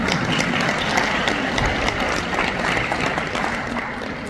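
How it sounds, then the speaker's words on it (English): An audience at a graduation ceremony for End Time Harvest Ministries, held at a university, gives sustained, dense applause, a loud wash of clapping that fades slightly toward the end. "So give her a round of applause."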